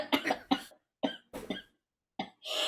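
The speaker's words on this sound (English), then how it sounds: "She's got a nasty cough." A run of harsh, close coughs, about six bursts separated by short pauses.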